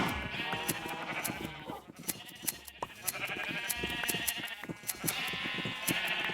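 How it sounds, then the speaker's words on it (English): Blocky Minecraft sheep bleat several times over a busy game soundscape of clicks and footsteps, the calls coming in short repeated bursts at moderate volume. "sheep, give me all your wool"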